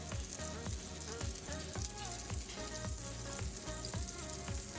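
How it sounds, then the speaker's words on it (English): Vegetables sizzle in melted margarine in a pan, a constant close frying hiss sitting beneath a loud, rhythmic music track with a regular beat. "I just let my margarine cook down"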